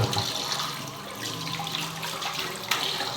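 Water runs steadily from a tap while dirty banknotes are washed by hand at a sink. The splashing stream is loud and continuous, with occasional brief sloshes and drips.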